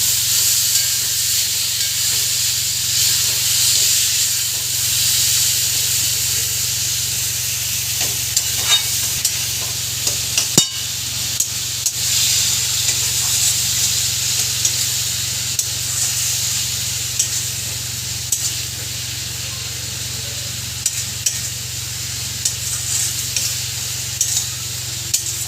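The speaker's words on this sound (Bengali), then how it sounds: "কচুর শাকটাও একটু নেড়ে দিচ্ছি।" Taro leaves and spice paste fry in a pan with a steady broadband sizzle and hiss while a utensil stirs through them, producing soft scraping strokes and occasional sharp clicks against the pan, close and continuous.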